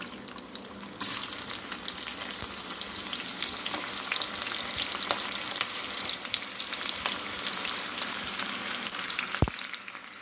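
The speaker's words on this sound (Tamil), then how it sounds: "எண்ணெய் நல்லா சூடானதோ நம்ம வெங்காயத்தை பொரிச்சு எடுத்துக்கலாம்." Onions deep-fry in hot oil for a Thalassery chicken dum biryani, a steady bubbling sizzle that swells after a quieter start, punctuated by a few sharp clicks and a brief knock near the end.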